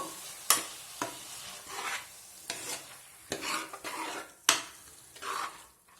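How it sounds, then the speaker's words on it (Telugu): A spoon stirs masala through cauliflower and chana dal curry in a pan, giving irregular scrapes and clinks against the metal over a light sizzle, close and alone. "ఈ మసాలాను వేసిన తర్వాత ఇలా ఒకసారి కలుపుకుందాము"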